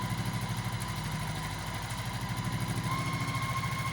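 A sewing machine stitches a quilt block for a block challenge, running in a steady, continuous mechanical whir with fast rhythmic pulsing, close and alone throughout.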